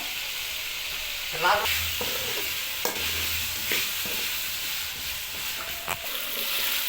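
Potato pieces stirred in a hot pan for an egg dish, a steady frying sizzle running throughout with a few scraping strokes of the spoon standing out, close and fairly loud, no talk.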